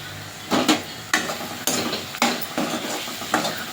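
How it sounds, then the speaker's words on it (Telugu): Okra and fish curry being stirred in a pot, a spoon scraping and clanking against the metal in about half a dozen distinct, loud strokes over a faint simmering sizzle, no talking. "మళ్ళీ కలుపు."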